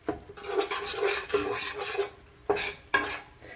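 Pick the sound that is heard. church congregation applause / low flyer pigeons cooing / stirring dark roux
stirring dark roux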